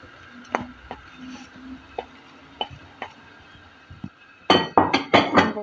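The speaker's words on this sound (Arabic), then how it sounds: "هسه أجي أضيف البطاطا." Pieces of potato are dropped one by one into a pot of Iraqi biryani, giving sharp separate knocks. A louder run of clattering bursts follows near the end, close and clear with no talk.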